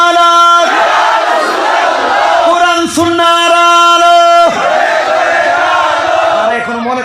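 A large crowd at a Bangla waz religious gathering bellows a loud, sustained takbir response in unison, with the call rising, breaking briefly, then swelling again as a massed roar close to the microphone.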